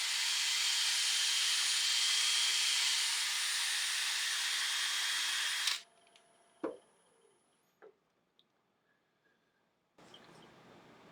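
A buffing mop spinning against a wood turning on a lathe, used to denib a piece coated with sanding sealer: a loud steady broadband whir for several seconds, then it cuts off into quiet with a few knocks before a softer hum resumes.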